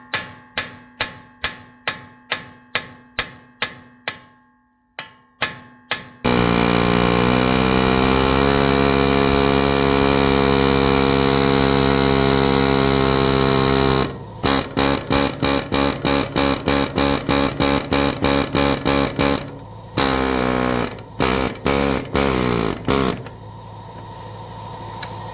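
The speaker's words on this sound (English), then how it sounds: "I had to get the old air hammer out, but it made easy work of it." Air hammer working on a Honda Civic axle: bursts of rapid pneumatic hammering, first short spaced blasts, then a long continuous loud run, then more choppy bursts, close and harsh.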